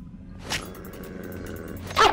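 Coyotes in the video game Fallout: New Vegas give a short growl and bark, with one burst early and a louder one at the end over low rumbling ambience.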